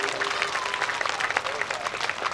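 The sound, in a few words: audience applause at a religious discourse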